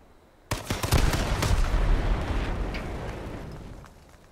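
Gunfire and explosive blasts in the H1Z1 battle royale video game, a sudden loud burst followed by sustained rumbling shots that slowly fade.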